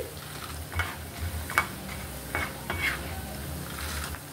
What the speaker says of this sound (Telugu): ఇలా కలుపుతూ ఫ్రై చేసుకోవాలి.